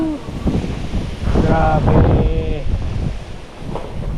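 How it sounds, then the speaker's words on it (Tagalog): Strong wind gusts outdoors batter the microphone with loud, rumbling buffeting, while a person exclaims over it. "Ang lakas ng hangin, no?"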